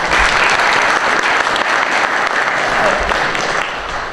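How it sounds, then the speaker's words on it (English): Audience applause at an entertainment show, a dense, steady wash of clapping from a sizeable crowd that holds loud for about four seconds and begins to ease off at the end. "Let's give them all a big round of applause."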